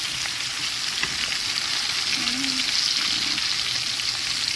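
A T-bone steak frying in a pan gives a loud, continuous sizzle with steady crackle, close up and heard alone.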